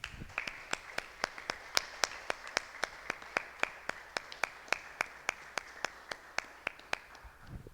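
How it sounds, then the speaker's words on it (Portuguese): A church congregation claps together in a steady, even rhythm of about three sharp claps per second, bright and close, with no voices over it. "Vamos aplaudir o Senhor Jesus"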